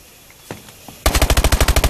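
Rapid automatic gunfire from a player's weapon in a 2v2 online shooter match, a burst of about fourteen evenly spaced loud shots after a second of quieter scattered sounds, with no talk over it.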